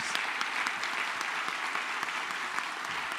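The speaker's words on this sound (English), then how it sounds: "ask for one more round of applause for the whole grade" A crowd at a 2023 high school commencement applauds the graduating class with steady, dense clapping that holds evenly from start to finish, with no talk over it.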